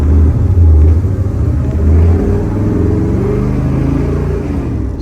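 A 1963 Chevrolet Impala big block with a four-speed gives a deep, loud engine rumble from inside the car while cruising, low and steady with slight swells in throttle and no talk.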